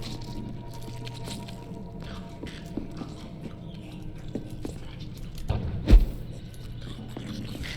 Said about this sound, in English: keeps making that squishing, gurgling, chomping noise